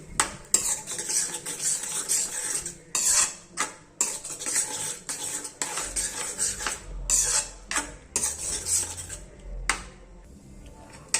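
A metal spoon scrapes and clanks against a kadai in an irregular stirring rhythm, stirring mustard greens, close up, with a faint sizzle beneath.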